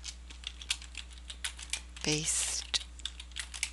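Computer keyboard typing comes as irregular quick clicks, close and soft, with a brief louder burst partway through and a voice faintly in the background.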